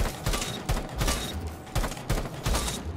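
M4 assault rifle fire in Rainbow Six Siege, heard as short bursts of sharp, punchy shots at an irregular rhythm, up close and loud with no talking.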